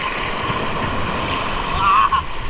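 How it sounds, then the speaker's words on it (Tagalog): Strong waves surge and crash at Death Pool, a rocky seaside swimming spot in Cabungauan, Pangasinan, giving a loud, continuous roar with wind buffeting the microphone and a brief swell of splashing near the end. "Malakas ang alon"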